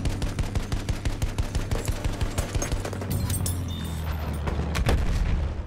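Rapid machine-gun fire rattles in a fast, steady stream of loud shots in Battlefield 1, then blends into a denser roar of mixed gunfire and explosions.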